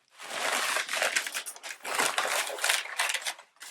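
Packaging crinkles and crushes continuously as a packed box marked fragile glass is opened, with dense, busy rustling at close range and no talking.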